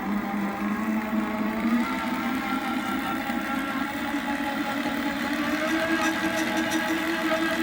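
A single-wheel electric power tiller runs alone with a steady mid-pitched whir and hum, holding an even level throughout without pauses.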